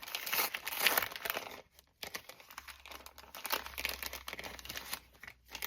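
A sealed, taped paper envelope from the March of Dimes is handled up close, crinkling and rustling with crisp tearing-like scratches in uneven bursts, broken by short pauses.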